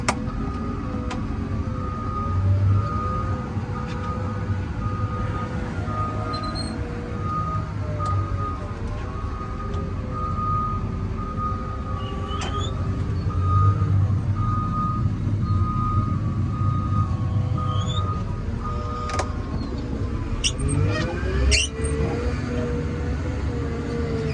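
A CAT 950K wheel loader shifted into reverse gives steady, evenly spaced reversing beeps over the constant low rumble of its idling diesel engine, loud and close.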